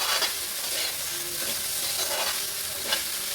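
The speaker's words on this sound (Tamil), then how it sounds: "அதாவது நம்ம நெய்யில் வறுக்கிறோம் இல்லையா" Flattened rice (aval) frying in ghee in a pan, a steady close sizzle with scraping stirring strokes rising every second or so, no voices.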